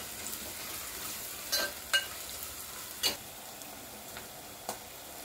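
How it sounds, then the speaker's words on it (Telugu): Garlic and green chilies frying in oil, giving a quiet, even sizzle punctuated by a handful of sharp spoon clicks against the pan, nearby and without voices. "వెల్లుల్లి బాగా వేగుతుంది కదా"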